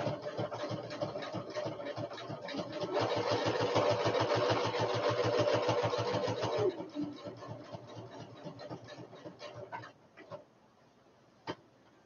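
A sewing machine stitches through upcycled paper in a fast, steady mechanical chatter lasting several seconds, growing louder mid-run before slowing and stopping, followed by a few isolated clicks.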